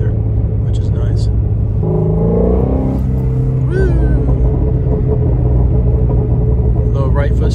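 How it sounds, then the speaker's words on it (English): Ford Mustang GT350 driving with a steady low engine rumble and road roar throughout, loud and close from inside the cabin, with a voice speaking over it in the middle and near the end. "I like making a little noise whenever I'm driving, especially in this car"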